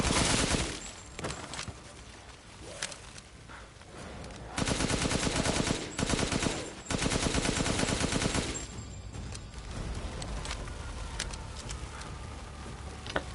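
Rapid bursts of automatic gunfire from Chris's weapon in Resident Evil Village, loud and close, coming in dense volleys with short pauses between them over game ambience, no voices.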